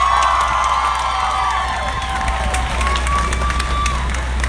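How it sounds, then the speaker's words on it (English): Outdoor crowd at a climate strike rally in Ann Arbor cheering and whooping for a speaker, with shouts and scattered claps over a low rumble of wind or traffic. "Please give a round of applause for Elijah."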